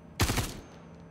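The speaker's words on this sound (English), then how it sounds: "you go from infinite fire, like that, to double fire" A gun in Star Citizen, switched to double-fire mode, lets off one quick, loud pair of shots that merge into a short burst, then falls back to quiet room tone.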